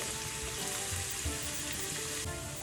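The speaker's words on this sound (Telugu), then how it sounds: "ఆయిల్ వేడైన తర్వాత సన్నగా కట్ చేసి పెట్టుకున్న ఉల్లిపాయ ముక్కలు వేసుకొని వీటిని ఫ్రై చేసుకోవాలి" Sliced onions sizzle and crackle steadily in hot oil in a pan for fish pulusu, a close, continuous frying hiss with no voices.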